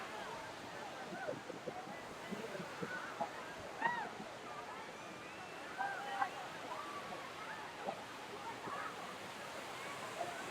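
Kothapalli waterfall pours down steadily, a faint, continuous rushing wash heard at a distance beneath people talking nearby.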